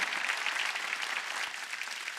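A church congregation applauds during a Wednesday worship service, a fairly faint but continuous patter of many hands clapping with no voices over it.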